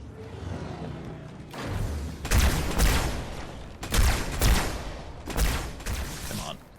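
Gunfire rattles in the video game Halo 2: Anniversary, several dense, loud bursts of shooting in a firefight, each lasting about a second, over a steady background of battle noise.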